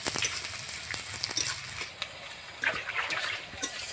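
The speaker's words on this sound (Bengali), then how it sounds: "পেঁয়াজটা লাল লাল করে ভাজা হয়ে গেছে," Chopped onion fried reddish-brown in mustard oil in a kadai sizzles softly nearby, with a few wet crackles and stirring sounds over a few seconds, unaccompanied by speech.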